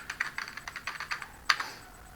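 Quick run of computer keyboard key presses entering a short search word, about a dozen light clicks in an even rhythm ending in one firmer tap, close and fairly quiet with no talking.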